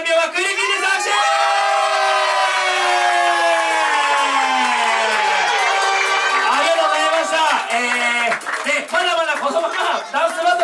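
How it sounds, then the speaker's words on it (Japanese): Audience at a freestyle 1on1 dance battle in Yokohama cheering and whooping loudly, with a voice carrying over the crowd, sustained and energetic across the whole stretch. "もう一回拍手。"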